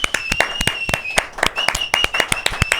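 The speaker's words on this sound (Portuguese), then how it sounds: "queria pedir uma salva de palmas aqui" A small group claps in scattered, uneven bursts of sharp hand claps, close and fairly quiet, with a faint steady tone behind.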